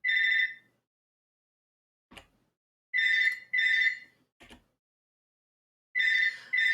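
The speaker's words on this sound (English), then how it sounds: "Right on cue, the phone's gone off" A phone's electronic ringtone sounds in short, bright bursts, one alone, then two close together, then another after a gap. Faint clicks fall between them in an otherwise quiet room.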